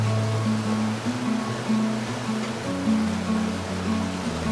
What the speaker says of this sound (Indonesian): Terdapat air terjun Sigota-gota yang terlihat dari Desa Tipang, seperti mata air di tengah bukit.